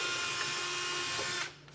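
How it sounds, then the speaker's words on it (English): A power drill whines steadily while boring a pilot hole through a truck bed for a gooseneck hitch install, running at close range for about a second and a half before stopping abruptly. "and then I'll start drilling."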